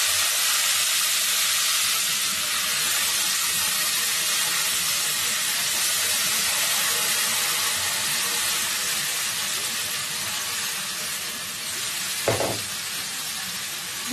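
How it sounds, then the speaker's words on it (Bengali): Marinated deshi chicken frying in hot oil with browned fried onions, a loud, steady sizzle and hiss holding throughout with one brief clatter near the end. "ভালো করে আমরা মাংসটা ভেজে নিব।"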